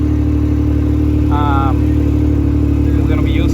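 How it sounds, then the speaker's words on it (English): Yamaha YXZ1000R side-by-side engine with stock exhaust idling loud and close, a constant low droning hum with steady harmonics, while a voice speaks briefly over it. "Getting ready to do the first pass on the stock exhaust."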